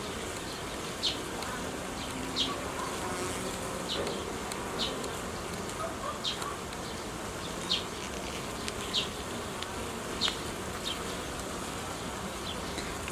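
Honeybees buzz steadily across a hive frame during a brood inspection, a dense close drone with small bursts of louder wingbeats rising at irregular intervals and no talking.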